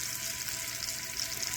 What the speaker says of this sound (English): So now here go my jackfruit seed. Okay. To the hotter oil.